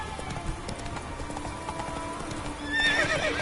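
In The Witcher 3, a horse's hooves clip-clop in a quick, steady rhythm, then a loud neigh rises near the end, sounding close and clear over light ambient game noise.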